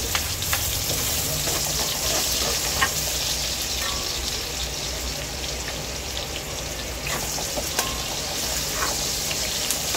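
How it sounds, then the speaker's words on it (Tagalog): Pork sizzling as it sautés for binagoongan, a dense continuous crackling hiss in the pan with scattered louder pops and no talking. "Gisa-gisa muna."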